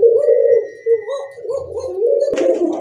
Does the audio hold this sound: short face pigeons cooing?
yes